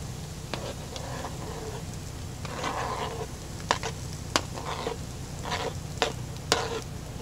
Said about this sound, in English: At this point, we can go ahead and add our sausage